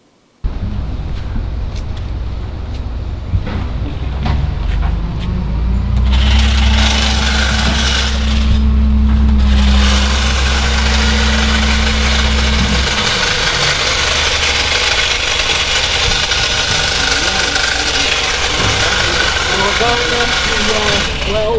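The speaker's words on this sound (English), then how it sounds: "Now to a hedge trimmer." An electric hedge trimmer runs with a steady, loud buzzing drone. A lower hum rises and falls in the first half, and voices can be heard in the background.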